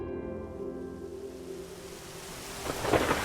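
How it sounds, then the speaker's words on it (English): Substantial rain falls steadily in an Australian setting, a dense continuous wash of noise with a low rumble throughout that swells louder near the end, with no talking. "it's raining here right now. So, and it's actually, fairly substantial rain"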